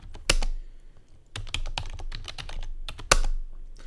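Computer keyboard keys tapped in short irregular bursts while entering a password, with a couple of louder key strikes, close and clear with no talking.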